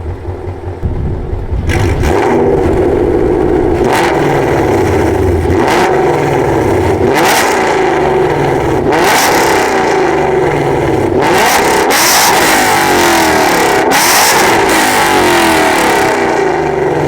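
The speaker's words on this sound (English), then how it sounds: "this is a Roush Axleback X-Pipe with long tube headers from Texas Speed" A Ford Mustang with a Roush axle-back X-pipe exhaust and long-tube headers revs repeatedly and loudly, rising and falling in a series of throaty bursts over a deep, steady engine rumble.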